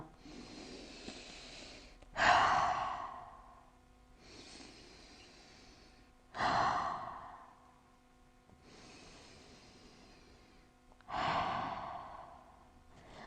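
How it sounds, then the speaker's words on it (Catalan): Three slow, deep exhalations pushed out through the mouth during a yoga class, each a loud breathy whoosh that tapers off, spaced about four seconds apart, with quiet breathing in between and no talk. "fes 3 respiracions i deixes anar tot l'aire per la boca"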